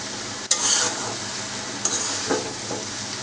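Spicy noodles sizzle in a pan fried in light oil and are stirred slowly, with a steady frying hiss and a few sharp scrapes and clinks of the utensil against the pan.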